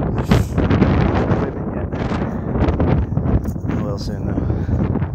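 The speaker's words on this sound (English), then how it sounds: "It's gonna be windy." Strong wind buffets the microphone at the Airport Overlook in Sedona, a constant loud rumbling roar with gusty swells throughout, while a person talks underneath.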